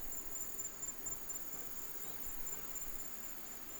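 Crickets chirp in the jungle at night in Vietnam, a continuous high, shrill trill that is faint but steady, with no talking over it.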